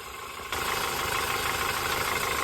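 A 2015 Ford Fusion engine idles while warming up, a steady close mechanical hum with a constant hiss that grows louder after the first half second and stays even.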